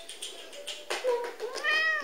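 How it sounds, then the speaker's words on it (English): A friendly diabetic lap cat at a Cats Protection centre in London meows several times, the calls rising and falling in pitch, close and fairly clear over quiet room noise. "she's a very, very friendly lap cat"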